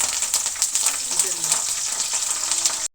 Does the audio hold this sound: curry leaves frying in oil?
yes